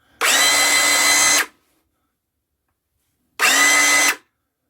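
A Milwaukee M18 HD18BS cordless bandsaw runs in two bursts, a steady whirring drone of about a second and a second-shorter run after a pause, loud and close with no talking.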